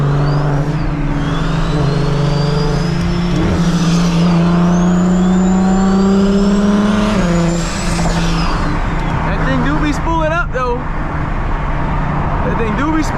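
A BMW 335i with a big single turbo kit spools up and revs loudly from inside the cabin, rising engine tones climbing for several seconds, with a whistling turbo note and people talking over it.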